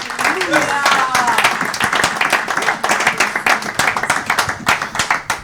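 A church congregation clapping and acclaiming the Lord during a sermon, dense rhythmic hand claps from many people with voices cheering and calling out over them, loud and close.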